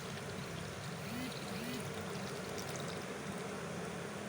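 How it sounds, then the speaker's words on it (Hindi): Water streams and splashes into a blender jar already holding falsa berries, black salt and sugar, a steady, fairly faint pour running throughout. "अब मैं इसमें ऐड कर रही हूँ पानी"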